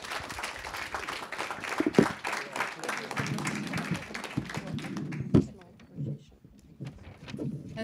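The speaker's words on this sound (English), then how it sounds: "Please give a big round of applause." Applause from an audience at a panel discussion on Latvia's whistleblowers law, a moderately loud patter of clapping with a few sharper claps that thins out and fades toward the end.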